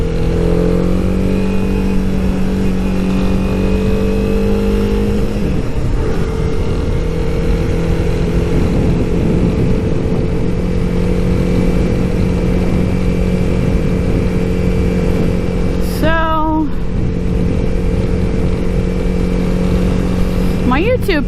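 Honda CB300R motorcycle ridden along a scenic road, its engine droning loud and steady throughout with a shift in pitch early on, plus a brief rising whine near the end.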